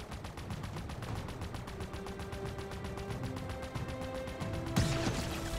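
Sustained rapid automatic gunfire in Halo Infinite, a dense continuous rattle of shots under game music, ending with a sharper impact near the end.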